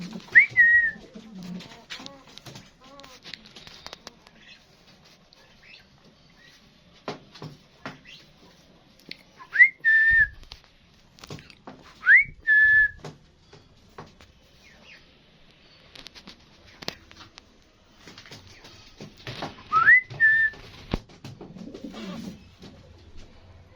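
A Yemeni pigeon gives short, rising whistle-like coos several times in a quiet room, each brief call separated by pauses, amid soft rustling and handling sounds.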